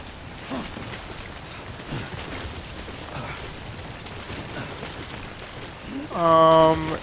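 Steady rain patters in a video game's stormy timefall weather, a dense continuous hiss with occasional louder bursts, ending with a brief synthetic tonal chime-like sound.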